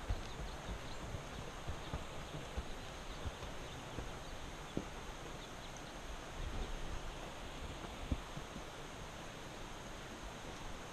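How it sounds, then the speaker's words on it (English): Horse hooves clip-clop steadily on a desert canyon trail near a stream in Palm Springs' Indian Canyon, sounding moderately close over a constant wash of broadband noise. "Horse is coming."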